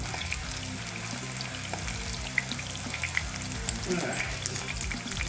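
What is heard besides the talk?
washing off a plate under running water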